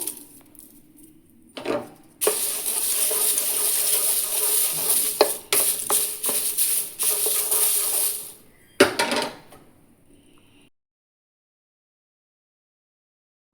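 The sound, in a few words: roasting curry leaves in a pan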